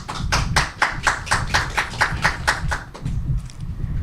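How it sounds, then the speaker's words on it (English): Sparse audience applause at a Global Entrepreneurship Week launch event, a few people clapping in a regular patter that fades out near the end, with low room murmur beneath. "So give yourself a round of applause."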